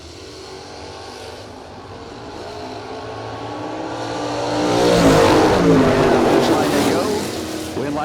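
Drag race car running an atomizer race injector roars down the strip at a drag racing event, a loud broadband engine blast swelling midway and fading, with track announcer talk over it.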